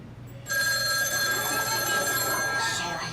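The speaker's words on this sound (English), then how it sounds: "Oh, my phone's ringing." A telephone rings steadily and fairly close, a bright repeating electronic tone that starts abruptly and continues alone with no talking.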